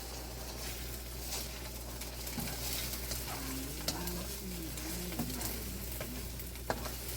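Eggs frying in a wok for beef fried rice, a quiet continuous sizzle with occasional light spatula taps and faint background chirps, fairly soft and steady throughout.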